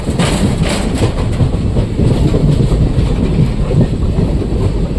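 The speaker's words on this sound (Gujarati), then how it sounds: "પ્લેટફોર્મ નંબર 1 ઉપર આપણે ટ્રેન જઈ" A train moves along platform number 1 at Lunidhar station, a loud steady rumble of wheels and carriages with faint clickety-clack running throughout.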